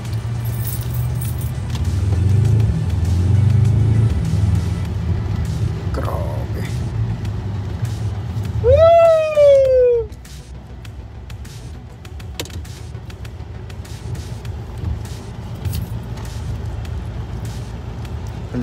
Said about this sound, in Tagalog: Laki ng truck.